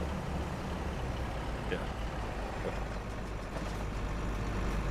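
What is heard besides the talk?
truck engine in the video game Farming Simulator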